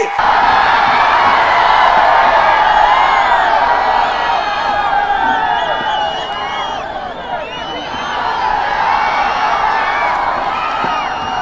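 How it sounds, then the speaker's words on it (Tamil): Dense, loud crowd cheering and whooping at an AIADMK political rally on a campaign tour in the Thanjavur and Pudukkottai districts, sustained roar with shouts and yells throughout, no clear speech on top. "உங்களுடைய எழுச்சி ஆரவாரம்"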